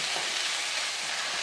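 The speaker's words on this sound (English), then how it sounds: "You can really hear that sizzle." Turkey fried rice with oyster sauce sizzling in a hot pan, a steady, dense crackling fry noise up close with no voices.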